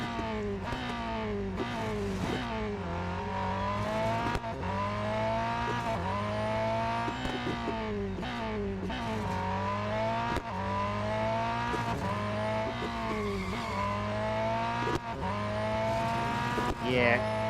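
Race car engine in Real Racing 3 droning loudly and steadily throughout, with repeated rising and falling revs through gear changes and occasional tire noise, no talking.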